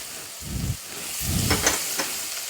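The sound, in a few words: onions sizzling in tempering with mustard seeds, asafoetida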